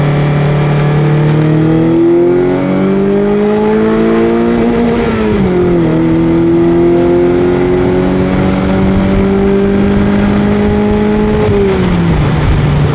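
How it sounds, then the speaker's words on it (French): An Opel car engine revs loudly and steadily, its pitch rising, dipping briefly, then holding high before dropping off near the end. "là je dégaze"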